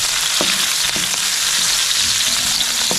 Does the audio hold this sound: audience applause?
no